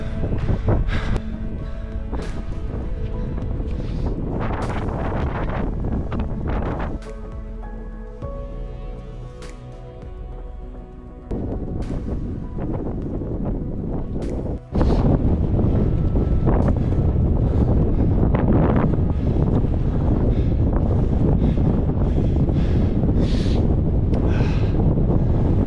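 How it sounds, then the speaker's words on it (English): Strong wind on an exposed mountain summit buffets the microphone in a constant, heavy roar with sharp gusty thumps, easing briefly midway before surging even louder. "Sure is windy."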